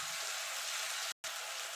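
Green chili and ginger paste stirred in a frying pan for an onion- and garlic-free white dum aloo, giving a steady broadband sizzle with one brief gap near the end.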